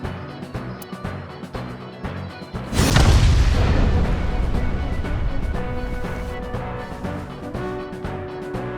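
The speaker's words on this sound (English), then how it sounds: "the burning fuse inside the body reaches the explosives" Explosives hidden inside a body detonate in the game AI: The Somnium Files nirvanA Initiative: a sudden loud boom a few seconds in, then a long rumbling decay under a tense musical score.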